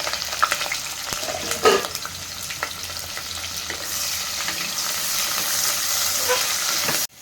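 Ingredients dropped into hot oil for a mutton gravy, an opening crackle with a few clatters settling into a steady close sizzle of frying with occasional stirring, no voices.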